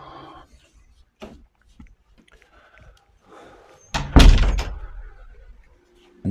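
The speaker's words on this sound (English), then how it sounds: "I'll close this door." A door at a small house in Vigan, Philippines, swung shut with one loud, close thump and brief rattle after some quiet shuffling and faint movement.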